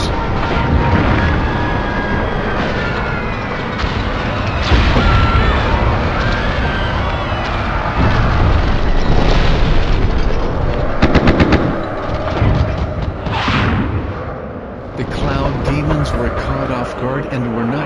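A loud battle scene from a bombing campaign, with artillery fire, explosions and rapid machine-gun bursts layered into a dense, continuous barrage that barely lets up.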